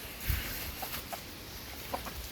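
Chickens cluck softly here and there over a steady outdoor background hiss, a few short clucks scattered across a couple of seconds.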